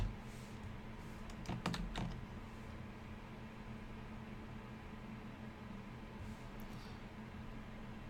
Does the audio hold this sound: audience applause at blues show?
no